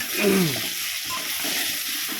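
Potato pieces fry in a pan with a soft, steady sizzle and hiss, a stir or clatter near the start, close by and fairly quiet throughout.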